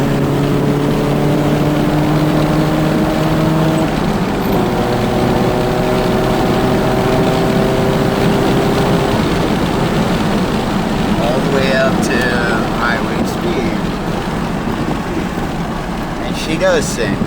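Nissan D22 Frontier pickup with a KA24DE four-cylinder engine revving hard, a loud, steady drone whose pitch climbs and shifts as it runs through the gears, close and continuous with no talk.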